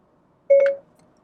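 Apple CarPlay voice command tone in a Lexus before a phone call: a single short, clean electronic chime of rising tones, loud and close, alone with no talk.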